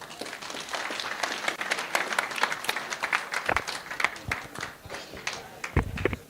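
An audience at an Eastern Cape school rationalisation programme meeting applauds a speaker with sustained, dense clapping that swells and dips, with a few louder claps near the end.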